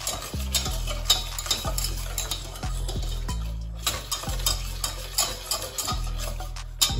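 Cheese sauce cooking in a pot while being stirred, loud repeated scraping strokes with steady bubbling and sizzle underneath, near and continuous.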